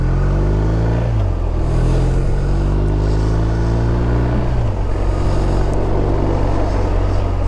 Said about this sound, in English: You're probably hearing the wonderful drone of this BMW